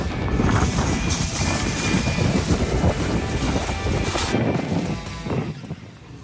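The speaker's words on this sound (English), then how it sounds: "Told you it was windy." Gusty wind buffets the microphone with a loud, rough roar that rises and falls, easing slightly near the end.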